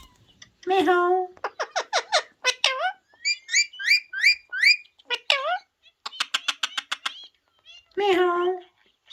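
A ringneck parrot calls and mimics sounds in a series of bright, whistled, meow-like and speech-like phrases, loud and close, separated by short pauses of silence.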